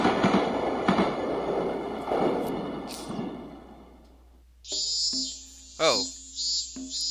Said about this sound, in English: now, I'm swaying in this train, headed towards Asakawa Village